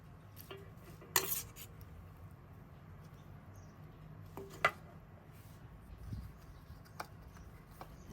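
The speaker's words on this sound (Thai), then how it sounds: "จากนั้นเราก็ตัก ไข่มดแดงลงไปนะคะ" A spoon scoops red ant eggs onto a banana-leaf wrapping for a Thai egg parcel, giving a few faint clinks and scrapes over a low, quiet background, with two sharper knocks standing out.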